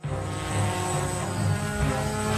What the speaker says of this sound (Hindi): बेटा, इन्हें ड्रोन कहते हैं।